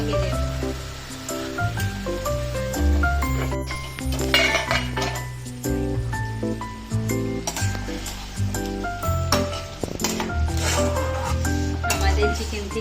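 A metal lid is set over a sizzling pan of dahi chicken cooking in spices, giving a few clinks and clanks against a steady frying hiss, with someone talking nearby.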